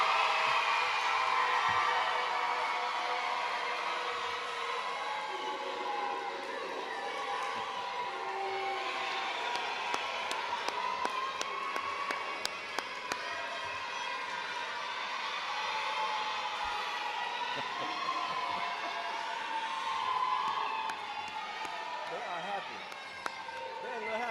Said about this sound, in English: Cheer for your babies one more time.